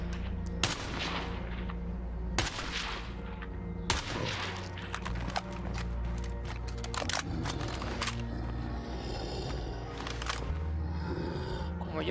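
Silenced weapon fire in State of Decay 2: a run of sharp, suppressed shots comes in irregular bursts and single pops, clustered densely in places, over game ambience with a voice speaking briefly.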